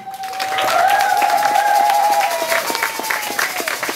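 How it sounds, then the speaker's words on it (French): Loud crowd applause at a radio station launch event in Kikwit, dense clapping with whistles and cheering tones rising over it, fairly close and sustained. "Est-ce qu'on peut applaudir?"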